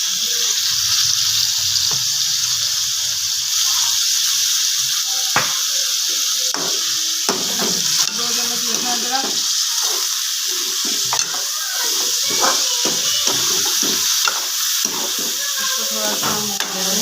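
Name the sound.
chicken frying with garlic ginger paste, stirring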